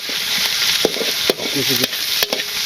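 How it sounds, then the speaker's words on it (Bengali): Onion frying in a pan in a village kitchen, a close, steady sizzle broken by several short scraping stirs of a spatula, with no talking. "পেঁয়াজটা ভাজি করি"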